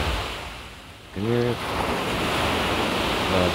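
Ocean surf rolls onto the beach at Monumen Balikpapan in the late afternoon, a loud continuous rush of breaking waves with gusty wind against the microphone and a brief tonal hum in the background.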